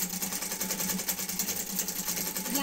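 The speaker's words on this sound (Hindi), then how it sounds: "तो मैं सिलाई कर लेती" A sewing machine runs steadily as it stitches the sleeve of a suit, giving a continuous, fast, even whirring hum with no pauses and no talking.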